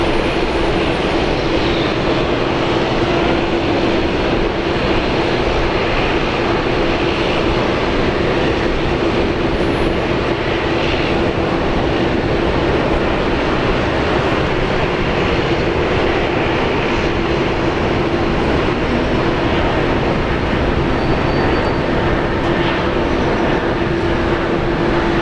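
Airliner taking off from runway 19 left at Brisbane Airport, a loud continuous engine roar with a steady hum holding unbroken for the whole stretch, no talk over it.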